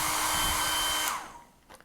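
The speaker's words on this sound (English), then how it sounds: "I have a blow dryer here. In fact, I think I'll just blow dry that real quick." A handheld blow dryer runs loud and steady on freshly painted gouache, then switches off just after the one-second mark, its whir fading into quiet room tone with a faint knock near the end.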